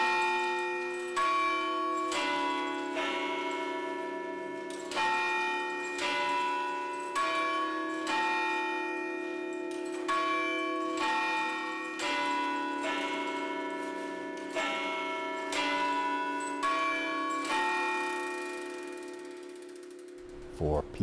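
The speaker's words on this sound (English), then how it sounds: "Hammers strike the bells to mark the hour and sing the familiar Westminster chime" Large tower clock bells struck by hammers ring out the Westminster chime, a slow sequence of resonant, sustained tones with long overlapping decays, loud and clear with a faint mechanical background.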